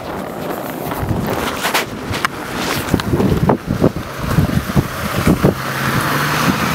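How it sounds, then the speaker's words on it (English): A car with all-wheel drive passes on a snowy winter road, a broad rushing swell of tire and engine noise that builds and fades over several seconds amid wind buffeting on the microphone. "Oh, here's a car coming."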